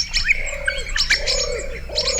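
Call of an endangered Australian bird: close, repeated bright whistled chirps mixed with lower warbling, cooing notes in quick phrases over a steady faint background, with no voices.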